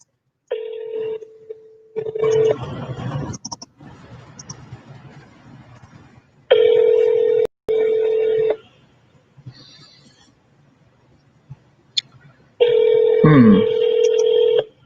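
A telephone ringing tone repeats several times, each steady buzz lasting a second or two, with rustling and faint handling noise between rings.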